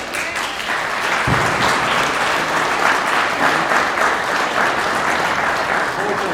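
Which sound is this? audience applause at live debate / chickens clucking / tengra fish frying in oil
audience applause at live debate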